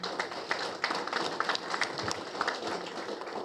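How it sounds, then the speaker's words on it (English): Audience at a police officer of the year award luncheon gives a round of applause, many hands clapping in a moderately faint, uneven patter that continues for several seconds. "So let's give them a round of applause as well."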